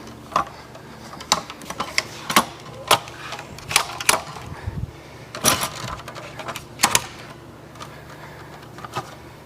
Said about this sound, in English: So these heads actually clamp right onto the tires